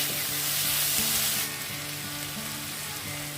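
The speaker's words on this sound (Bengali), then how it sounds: "এবার দিয়ে দিলাম টমেটো কুচি। টমেটো কুচি দেওয়ার পর আবার ওগুলোকে ভালো করে ভেজে নেব।" Chopped tomatoes fry in a pan for dal fry, giving a steady close sizzle with faint stirring scrapes, the hiss easing a little partway through, no talking.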